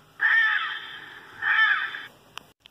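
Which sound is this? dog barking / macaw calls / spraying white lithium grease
macaw calls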